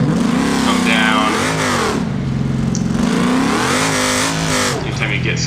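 A 1500HP sandcar in BeamNG climbs and descends sand dunes, its loud engine note rising and falling continuously with throttle changes, close and steady, with a voice talking over it.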